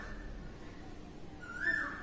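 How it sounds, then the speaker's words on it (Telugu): A single short, faint whistled note from an Asian koel sounds from a distance near the end of a quiet indoor background. "కోయలు అరుస్తుంది వినిపిస్తుందా"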